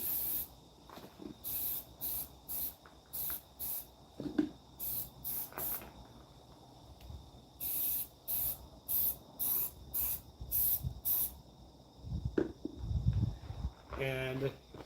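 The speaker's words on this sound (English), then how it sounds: "Gonna hit it with a little bit of rust fix." Rust fix is sprayed onto rusted wire mesh in a rapid series of short, close hissing bursts, about sixteen in all, with a voice speaking briefly near the end.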